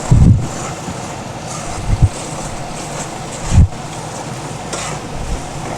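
Masala frying in oil for brinjal curry, a soft continuous sizzle and bubbling close by, broken by a few brief stirring scrapes against the pan.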